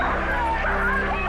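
Police dogs bark and yip amid a civil-rights street confrontation, several sharp barks and whimpers over a dense murmur of crowd noise and talking voices.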